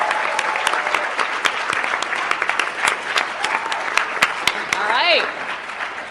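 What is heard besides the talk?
audience round of applause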